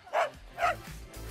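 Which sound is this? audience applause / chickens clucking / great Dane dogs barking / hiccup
great Dane dogs barking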